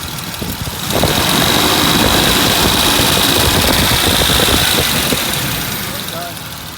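A 1996 Jaguar XJ12 X305 with its V12 engine idling smoothly, a steady close broadband hum with a faint high whine, sustained for several seconds.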